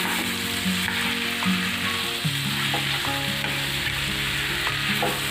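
Chicken and bamboo shoots fry in a pan with a constant loud sizzle, broken by repeated scrapes and knocks as the pieces are stirred.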